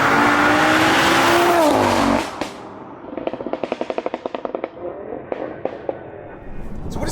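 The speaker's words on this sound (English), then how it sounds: "Turbo comes in strong." A 685 bhp Audi RS3 accelerates hard, its engine loud and close with a rising turbo whine, then a rapid burst of sharp crackles and pops, followed by quieter revving.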